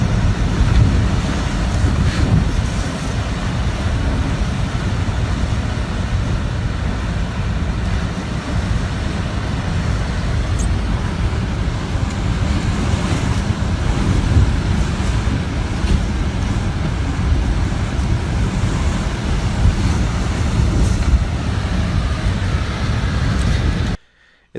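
Hurricane Dorian's wind roars without letup over crashing waves in the northern Bahamas, a loud, dense rush that cuts off abruptly at the end.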